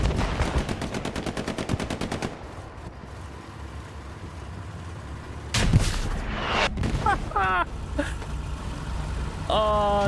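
A battlefield in the game Hell Let Loose: rapid machine-gun fire, then a heavy anti-tank rocket blast with a sharp crack and rumble, followed by scattered gunfire and other game sounds, with a voice talking at times.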